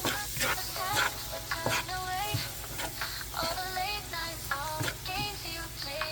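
Garlic and chicken powder stirred into beef in a pan, with a spatula scraping and clicking in quick, uneven strokes over a soft, steady sizzle, close and fairly quiet.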